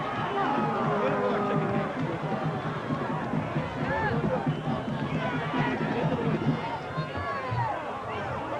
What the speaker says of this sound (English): There's a good crowd here, John. I like this crowd.